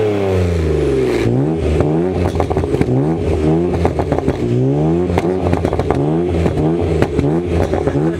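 A BMW M3 with its exhaust valves open revving hard, loud and close, its pitch sweeping up and down through repeated blips with crackles between them.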